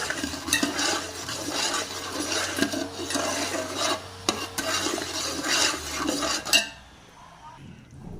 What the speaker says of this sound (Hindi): इसे भी अच्छे से मिक्स कर लेते हैं।